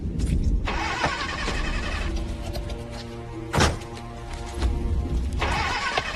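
A car engine cranks repeatedly without catching, a starter whirring in uneven bursts broken by a sharp thunk, heard from close by with no talk over it.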